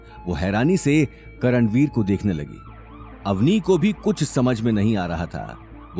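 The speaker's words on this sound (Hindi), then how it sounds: "उन्हें दरवाजे के बाहर से पुलिस के सायरन की आवाज सुनाई दी।" A police siren wails in rising and falling sweeps through a Hindi audio drama, heard loud and repeating under a narrator's continuous speech.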